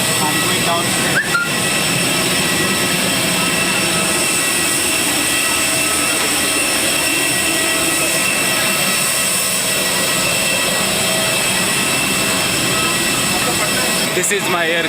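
A jet aircraft engine roars steadily at Patna airport just after passengers step off the plane, a loud, dense whine and rumble filling the whole stretch without letup.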